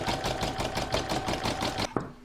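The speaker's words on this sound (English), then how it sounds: "I'll now pop that back in my machine and stitch round number 1, which is the outline." An embroidery machine stitches the outline round of a Santa applique in the hoop: a fast, steady mechanical stitching patter for nearly two seconds that stops abruptly, followed by a soft click.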